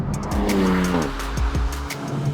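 A Renault Megane R.S. 300 Trophy is driven hard on a wet road, its engine revving loudly through rising and falling gear changes while tyres hiss and squeal close by, with no voices.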